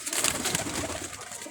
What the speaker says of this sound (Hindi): ये बच्चे ने कबूतर निकाला है, काला चीना कबूतर है ये